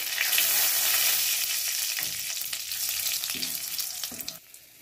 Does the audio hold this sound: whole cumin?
yes